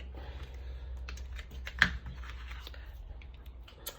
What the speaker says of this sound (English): all I'm going to do is punch right through, which will be difficult because this is,